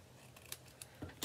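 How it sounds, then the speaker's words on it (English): Scissors trimming the edge of a handmade card base, a few quick, quiet snips close by in an otherwise still room. "all you gotta do is take your scissors,"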